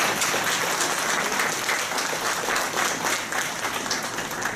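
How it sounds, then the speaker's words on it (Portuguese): An audience at a philosophy conference panel bursts into dense, continuous applause, many hands clapping close and loud throughout. "Dá uma salva de palmas para ele aí."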